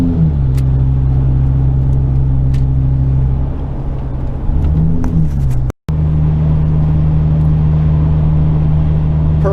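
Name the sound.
Ford V10 van engine climbing a grade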